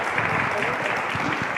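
Audience applause at a Spanish-language academic course ceremony as a certificate is presented, a steady dense wash of clapping lasting under two seconds, with faint voices mixed in.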